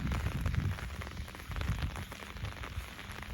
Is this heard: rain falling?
yes